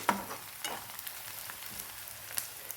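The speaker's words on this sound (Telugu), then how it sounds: "ఉల్లిపాయలు వేగిపోయాయి." Onions frying in oil for a yam and dried prawn curry, with a quiet, steady sizzle and a few soft scrapes of stirring near the start and end.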